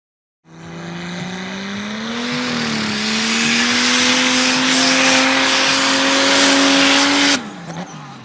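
A mud drag race car engine at a mud drags event revs up from low to a sustained high-RPM scream, loud and close, rising steadily for about seven seconds before cutting off abruptly with a few small pops.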